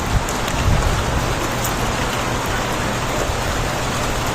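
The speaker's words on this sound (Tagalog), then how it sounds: "Medyo maulan lang ngayon pero okay lang." Steady rain near a waterfall in Juneau, Alaska, a dense continuous hiss of drops falling on surfaces, fairly loud and unbroken throughout with no voices.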